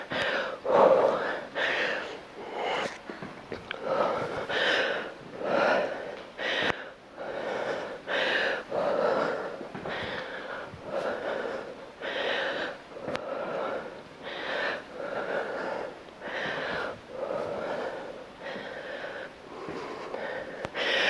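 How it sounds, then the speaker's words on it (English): Heavy, rhythmic breathing close to the mic during a home leg workout with lunges, forceful huffs and gasps repeating in a steady exertion pattern, with occasional voiced sounds mixed in. "You might hear me breathing hard, so I'm working hard just like you."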